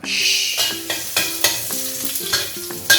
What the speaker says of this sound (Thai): ผัดกระเทียมให้สุก